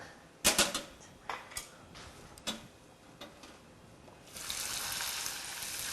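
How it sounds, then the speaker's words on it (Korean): Sheets of dried whitebait sizzle in hot oil, with sharp crackles and pops early on, then a steadier hiss of frying that rises toward the end, fairly faint and without speech. "튀기도록 할게요."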